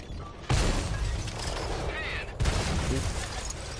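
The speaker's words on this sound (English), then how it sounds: "He just fired a missile." Missile fired in a tank combat video game, a sudden loud blast followed by a rushing roar and a second impact-like boom, with faint game noise around it.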